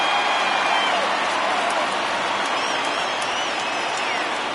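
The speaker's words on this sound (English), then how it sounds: "Crowd gets up for the 3-2." Stadium crowd in the baseball video game MLB The Show 20, rising in a broad, steady roar of cheering and applause during a full count, with a commentator's voice faintly mixed in.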